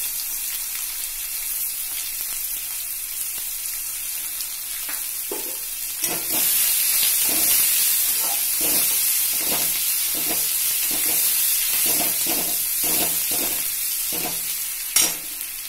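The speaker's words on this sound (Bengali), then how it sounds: "পেঁয়াজ কুচানোটা দিয়ে দিলাম" Chopped onion dropped into hot oil with tempering spices in a pan for an echor chingri (jackfruit and prawn) dish, a steady close sizzle that grows louder after a few seconds, broken by repeated scraping stir strokes.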